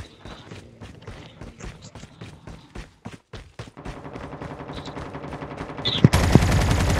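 Video game gunfire in rapid, close bursts of shots, with brief pauses between volleys, building toward a dense, loud barrage near the end.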